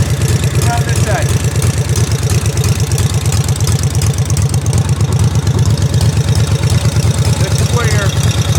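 A 1941 Harley-Davidson hard tail springer motorcycle, almost 100 years old, idles close by with a steady, even low thumping that runs unbroken throughout.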